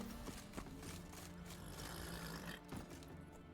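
The horse Roach gallops in The Witcher 3, heard as a brisk, rhythmic patter of hooves under an ambient game soundscape, moderately close and fairly quiet with no talking.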